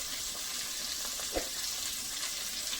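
Two medium onions sizzle in hot oil for fried okra, a steady, close hiss of frying that holds evenly throughout, with one brief soft clink of utensil partway through.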